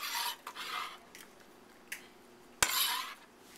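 A spoon mixes apples and lentils in a bowl, giving scattered scraping clinks against the dish with a couple of sharper knocks between quieter gaps.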